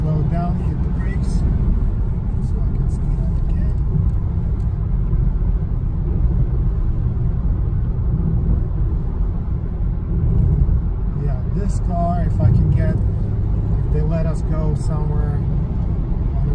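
A 2019 BMW 330i rolls along with a steady low road and engine rumble as it slows under braking, while someone talks over it intermittently.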